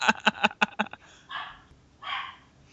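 A dog barks in a quick burst of five or six sharp barks, then gives two longer, whining yelps after pauses, fairly close and loud with no talking.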